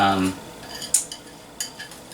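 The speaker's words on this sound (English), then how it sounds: "I'm going to stir this together, and already you can see it's almost coming together kind of like a brownie batter" A spoon scrapes and clinks against a bowl while a potato mixture is stirred into a thick, brownie-like batter, giving a few sharp metallic taps and soft scraping strokes, close and fairly clear.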